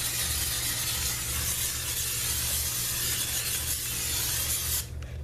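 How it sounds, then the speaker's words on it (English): Pam cooking spray hisses steadily inside a crock pot in one long, loud, close burst that cuts off abruptly near the end. "I want to simply just spray the inside with a little bit of Pam spray"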